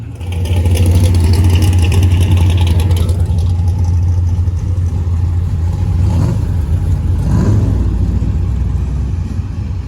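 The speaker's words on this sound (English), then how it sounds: "Hey, some cars are leaving already." Cars pull away from a Chevrolet car show in Pennsylvania, with a loud, close engine rumble and revving that runs continuously, a whir fading after a few seconds and a couple of passing surges.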